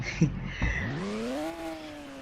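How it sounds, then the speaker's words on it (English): A Porsche GT2 RS engine in a Roblox racing game revs up with a rising, smooth tone after a couple of brief thumps, holding a steady synthetic-sounding drone. "the cars do sound decent in this game too"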